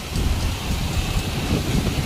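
Heavy rain falls in a steady, dense roar with low rumbling beneath, loud and close, with no voices over it.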